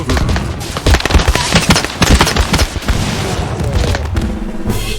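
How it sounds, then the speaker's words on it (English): Explosions and rapid gunfire from a large TABS battle, a continuous loud barrage of blasts and shots layered densely over one another with no pauses. "there comes the explosions. The explosions are deadly"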